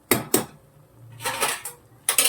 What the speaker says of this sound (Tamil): கலக்கி வச்சுட்டு திருப்பி மூடி போடலாம்